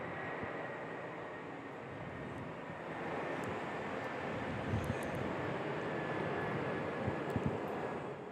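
A Qantas airliner rotating on takeoff at Perth airport: a broad, steady jet engine roar heard from a distance, building slightly in loudness and sustained throughout.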